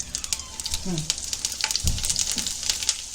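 Cumin seeds tossed into hot oil in pans of mutton and chicken, a steady close crackling sizzle with stirring scrapes and a brief voice underneath.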